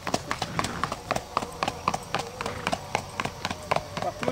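Rhythmic horse hooves clip-clopping at a steady trot, fairly close, with quiet voices talking in the background.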